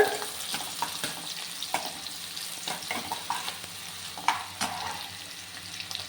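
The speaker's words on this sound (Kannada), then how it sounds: "ಇದನ್ನು ಸ್ವಲ್ಪ ನೀಟಾಗಿ ಫ್ರೈ ಮಾಡ್ಕೊಳ್ಳೋಣ" Onion and green chilli fry in oil in a pan for an egg masala, a soft continuous sizzle broken by occasional sharper stirring scrapes and clicks, with no talk.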